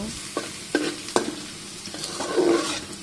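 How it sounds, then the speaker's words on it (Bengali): Chicken fries in a pan with chopped ginger and garlic, a steady sizzle broken by three or four sharp scrapes of a spatula stirring it, close and fairly loud, with no talking. "তারপরে ভালোভাবে নেড়ে চেড়ে নেব।"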